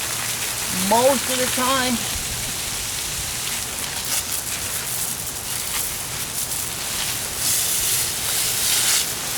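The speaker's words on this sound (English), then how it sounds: "Basically, rinse off that cable." Water sprays steadily over the cable and drum of a drain snake during rinsing, a dense hiss like heavy rain that runs throughout, with a voice speaking briefly near the start.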